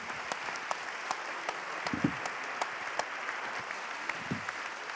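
Audience applause at the opening session of a Printemps de l'Optimisme 2015 conference for six speakers, a steady dense clapping that fills the room with a few sharper peaks throughout.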